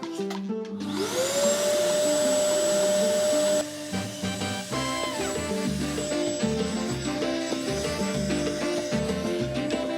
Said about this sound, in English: stick a hoover down there and see if we could suck up the microphone.